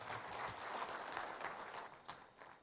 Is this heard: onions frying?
no